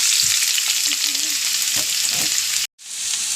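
Onions, ginger, garlic, curry leaves and green chillies frying in hot oil for Kerala egg roast, a loud steady sizzle with faint stirring scrapes, briefly cut off near the end.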